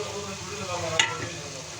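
Chopped tomato going into a pan of frying onions with ginger, garlic and green chilli paste, a steady soft sizzle with a brief clatter as it drops in.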